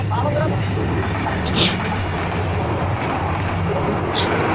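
A train runs along a railway line in Bangladesh, heard from close by as a steady, heavy rumble with low rhythmic pulsing and occasional brighter metallic squeaks.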